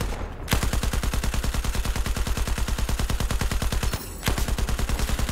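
Sustained automatic gunfire in the video game Battlefield 4, a loud, rapid and evenly paced stream of shots that breaks off for a split second before resuming.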